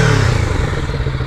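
A Kawasaki Z650 RS motorcycle engine revs loudly up close, a rough throaty rumble rising and settling over a second or so.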